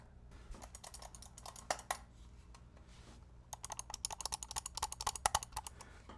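Crisp, rapid clicks from the buttons of a Razer Basilisk X Hyperspeed wireless mouse, fired off in two quick bursts separated by a short pause, close and distinct against a low background hum.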